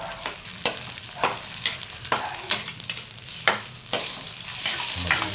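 Sardines sautéing with papaya in a pan, a steady sizzle and fry broken by repeated scraping strokes of a spoon stirring roughly every half second, close and clear with no talk.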